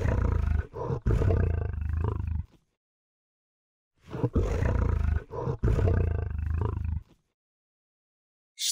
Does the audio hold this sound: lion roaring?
yes